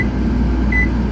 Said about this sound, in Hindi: फाइनली माइक्रोवेव ओवन चल गया है।